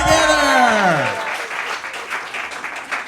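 An audience claps steadily at a comedy show at The Groundlings, a full, sustained round of applause heard clearly after a brief swooping tone at the start.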